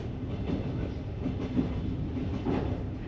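Overnight first-class sleeper train rolling on rails at night out of Yerevan, a steady low rumble heard from inside the carriage with soft periodic clickety-clack beats and no talk.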